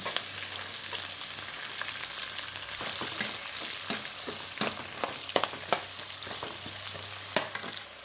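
Onions and green chillies fry in a hot pan with a steady close sizzle, broken by sharp crackles and pops and a few scrapes of stirring, with no voices.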